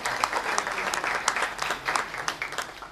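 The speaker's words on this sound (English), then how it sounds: "Give him a round of applause." An audience at a panel on the 2006 Illinois elections gives Peter Scozzi a steady round of applause, a dense wash of many hands clapping at even loudness throughout.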